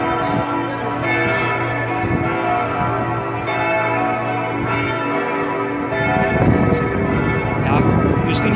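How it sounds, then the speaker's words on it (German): Church bells of Augsburg Cathedral ring out steadily on the cathedral square, their tones overlapping and sustained, with a distant hum of voices and outdoor ambience beneath. "Und die Glocken hört man jetzt gerade."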